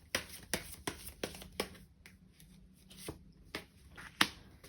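Tarot cards are shuffled and drawn with a series of soft, close papery flicks and slaps, about a dozen quick transients in an irregular rhythm against a quiet room, with no talking.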